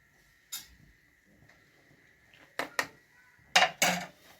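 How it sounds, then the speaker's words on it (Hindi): A spoon works through chana dal pinni mixture seasoned with cardamom powder in a pan, giving a handful of separate close clinks and scrapes spread over a few seconds with quiet gaps and a faint steady hum beneath. "इसको मैं अच्छी तरह से मिक्स करूँगा।"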